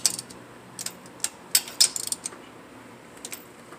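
A ratchet or torque wrench tightens bolts on a Mazda Miata engine, giving quick bursts of metallic clicks and pawl rattles, close and sharp, with pauses between strokes.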